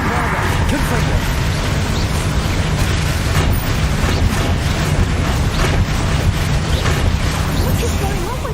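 A Bombarda spell explodes in the video game Hogwarts Legacy, a dense rumbling blast that roars steadily for several seconds, loud and unbroken.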